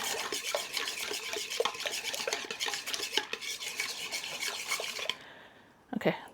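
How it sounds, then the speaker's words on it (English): A small dough whisk mixes sourdough discard bagel dough in a bowl in a home kitchen, giving close, rhythmic scraping and tapping strokes that stop abruptly near the end, followed by a brief clatter, with no one speaking. "get my little dough whisk here"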